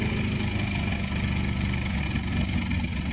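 A Honda Mobilio engine running with a steady, dense rumble, loud and continuous throughout, with no clear rise in pitch and no talking.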